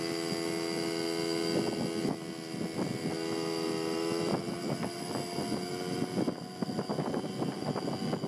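A 1985 Yamaha Yamahopper QT50 moped climbing a hill at about half throttle, its small engine droning steadily with a buzzing tone and wind rumble, close and continuous.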